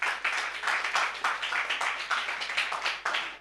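An audience at a career fair session claps for a speaker, with a moderately close, steady patter of overlapping hand claps lasting a few seconds.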